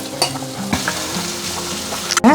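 A spoon scrapes and stirs cooked toor dal into simmering sambar with a low bubbling sizzle, close up, ending in a brief clatter.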